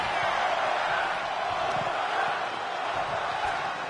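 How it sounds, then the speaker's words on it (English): A pro wrestling arena crowd roars continuously, a dense wash of cheering and shouting that stays loud throughout, with scattered thuds and faint commentary underneath. "And this crowd is rabid."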